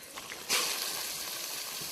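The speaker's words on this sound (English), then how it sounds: "get a bit of water and so it stops the frying now and it's simmering" A soft, steady sizzle with a brief hissing burst as garlic fries gently in a pan for a meat ragu, then simmers after water is added, quiet and close.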